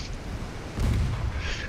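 Battleship naval guns fire in the naval strategy game Ultimate Admiral Dreadnoughts, a single low, heavy boom swelling up midway over a steady rumbling background.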